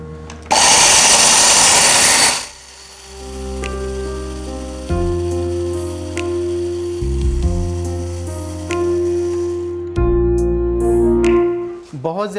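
An electric kitchen grinder whirs loudly as it grinds whole masala spices to a coarse mix: a harsh roaring burst at first, then a steady motor hum that shifts pitch as the spices break down.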